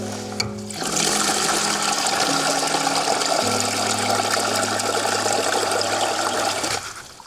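Water runs steadily from an outdoor gravity-fed cabin water system into a basin, a continuous loud rushing pour that starts after a brief faint trickle and stops abruptly near the end.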